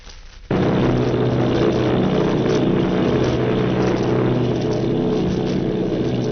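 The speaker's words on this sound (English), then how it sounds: "Army bombing plane V-843 off Bayonne, New Jersey." An engine drone from an army bombing plane, a sound effect in the 1938 radio drama The War of the Worlds, cuts in sharply after a short pause and then holds as a loud, steady roar.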